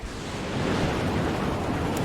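Wind blowing across an open wasteland in the Mad Max video game, a steady broad rushing roar that swells slightly and holds, with no talk.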